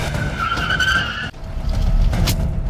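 A car's tires squeal as it tries to speed away during an attempted arrest in a drug raid in Lawrenceville, Georgia, a loud close skid with revving engine that briefly cuts out and then surges again.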